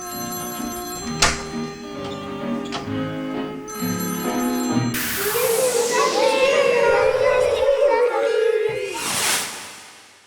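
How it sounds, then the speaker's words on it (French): A telephone ringtone plays in a room with children, a bright chiming tune that then gives way to a swelling musical passage and children's voices. "Oh, le téléphone sonne."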